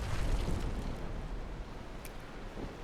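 Ship cannons in Naval Action fire as a heavy rumbling boom at the start, then roll into a fading low roar with water and wind noise.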